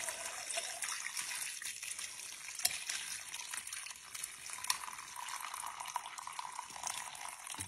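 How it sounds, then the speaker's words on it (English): Homemade apple cider pours through a strainer into a large pot, a continuous splashing trickle of liquid that shifts in strength, fairly faint and close, with no talking. "we are going to pour that over the strainer into the big pot."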